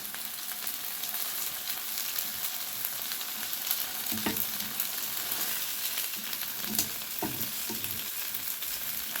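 Homemade hamburger patties fry in a pan, a constant bright sizzle and crackle running steadily throughout with occasional louder spits and light stirring sounds.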